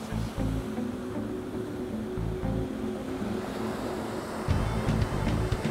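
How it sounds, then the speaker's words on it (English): Ocean waves break offshore below a windy vantage point where a drone is being launched, a steady low surf roar with rumbling surges swelling louder near the end, with no voices. "You want it just over those breaking waves."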